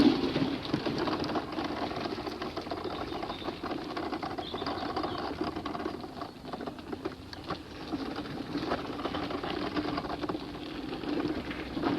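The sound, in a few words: traffic noise from the main road next to a garden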